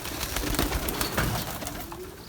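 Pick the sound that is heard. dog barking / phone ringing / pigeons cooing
pigeons cooing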